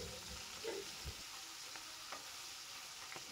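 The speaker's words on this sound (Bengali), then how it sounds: "তেলটা গরম হলে একে একে মাছের মাথা আর লেজাটা দিয়ে দিলাম।" Small hilsa fish head and tail frying in hot mustard oil, a faint, even sizzle with a few soft crackles and a brief stir near the start, no talking over it.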